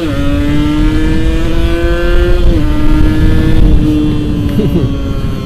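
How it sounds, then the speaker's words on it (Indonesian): A motorcycle engine warms up after sitting unused, holding a steady close idle with a strong harmonic drone that dips slightly in pitch midway and keeps running throughout. "Dipanasin motornya, lama nggak dipakai."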